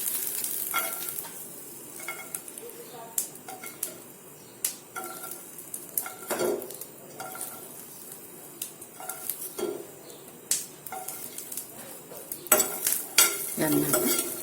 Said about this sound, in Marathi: इथे मी एक पॅन गरम करून घेतला आहे याच्यात आपल्या हिरवी मिरच्या आणि लसूण हे भाजून घेऊया आपण